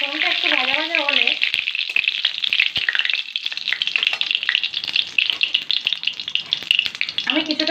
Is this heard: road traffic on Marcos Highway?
no